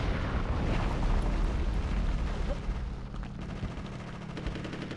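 A bomb explosion in the video game Conker's Bad Fur Day gives a loud, rumbling low boom that fades into lingering rumble, heard alone.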